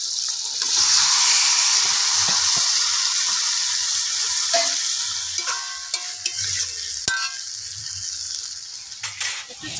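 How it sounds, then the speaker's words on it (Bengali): Marinated chicken sizzles and fries steadily in a pan for a Bengali chicken kosha, with a spoon scraping and stirring through it and a few sharp clinks against the pan. "মাংসটা আমি একটু কষে নিয়েছি"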